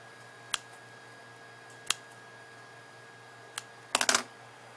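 Three sharp, separate snips cut off straggly flower stems on a wedding boutonniere, then a quick double snip ends the run, all crisp and close over a low steady hum.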